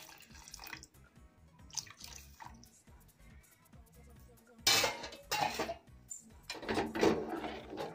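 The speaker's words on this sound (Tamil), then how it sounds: "நம்ம கொஞ்சம் பால் ஊத்திக்கலாம் இதுல" Milk poured into sathu maavu porridge and stirred in a pot, giving soft liquid splashes and scraping clinks, with a louder burst of pouring and mixing midway through, no talk.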